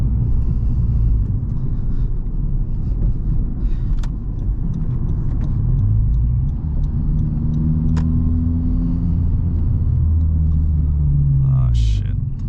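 A Honda Civic Type-R fitted with an Invidia R400 exhaust drives along with a steady low engine and exhaust rumble, heavy road noise and a few brief rises in pitch.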